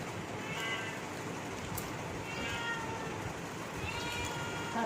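A cat meows in a home at mealtime, faint and high against a steady hiss of room noise, with a few short calls spread across the moment.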